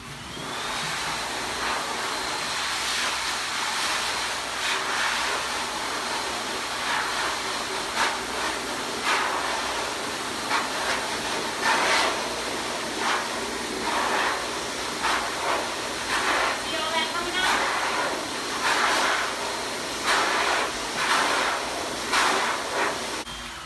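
A steady, loud blowing roar of a pet dryer runs throughout, with brief fluctuating bursts as the airflow shifts through fur.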